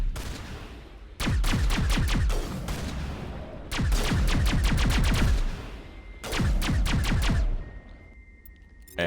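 A gas rifle in Mass Effect Legendary Edition fires three loud, rapid bursts. Each burst is a fast run of shots, and short gaps between them suggest the weapon overheating.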